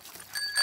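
A cartoon bicycle bell gives a short bright double ring, quick and close, with a faint hiss behind it.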